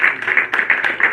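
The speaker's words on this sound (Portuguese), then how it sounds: "E as palmas é toda para o Senhor." A church congregation claps in a rhythmic, fairly loud pattern of bursts during a worship service. The claps are close and fill the short moment with no clear talk.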